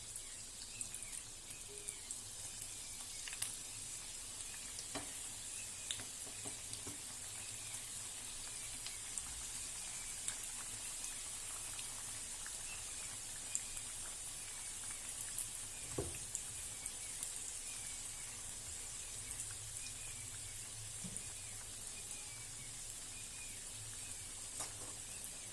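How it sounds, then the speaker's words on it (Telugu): Mixed okra (bhindi) frying in oil over a slow-to-medium flame gives a steady, soft sizzle with scattered small crackles, continuous throughout and with no voices. "ఇప్పుడు ఇందులో మనం మిక్స్ చేసుకున్న బెండకాయలు వేసుకుందాం."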